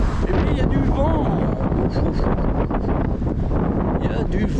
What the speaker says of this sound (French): Et puis il y a du vent.